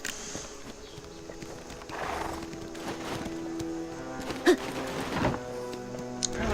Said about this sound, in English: Try sprinting across an open field on the back of a horse.